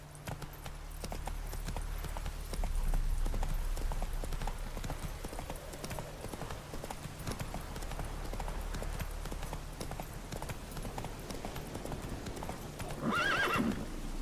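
Roach, the horse in The Witcher 3, gallops with steady, rapid clip-clop hoofbeats over a low background rumble, ending with a short whinny near the close.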